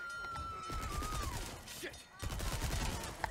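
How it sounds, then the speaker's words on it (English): Machine gun fire in the Resident Evil 4 remake, rapid rattling bursts of shots in quick succession that break briefly and resume, loud and close, with a player talking over it. "Okay, it's machine gun time, dude."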